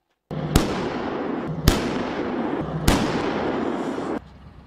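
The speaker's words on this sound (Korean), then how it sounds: "해안에 전개된 두룡은 초당 2발씩 불을 뿜으며 순식간에 하늘을 뒤덮습니다." Multiple rocket launcher deployed on a coastline firing two rounds per second against a North Korean coastal artillery unit, heard as three sharp, loud launch blasts about a second apart over a steady roaring rumble that cuts off near the end.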